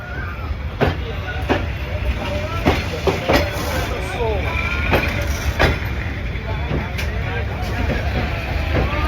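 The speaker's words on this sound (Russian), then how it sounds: "А тут паровоз." A steam locomotive rolling past in Vietnam, with a broad rumbling wash and repeated sharp clacks from the wheels. The train is close and loud, and faint voices are heard beneath it.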